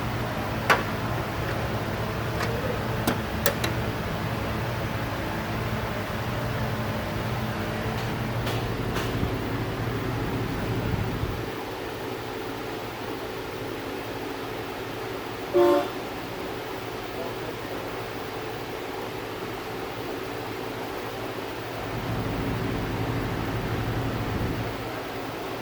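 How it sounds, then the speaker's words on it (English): A vacuum pump drawing down a Nissan Maxima's air-conditioning system runs with a steady low hum and broadband hiss throughout, its low drone shifting partway through, alongside a few faint ticks and a brief clunk, with no talking. "So I'm evacuating it for 20 minutes."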